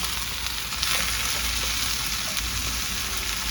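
Chayote cooks down in a pan over an outdoor fireplace, sending up a steady, close sizzle and frying hiss with faint stirring scrapes, and no voices over it.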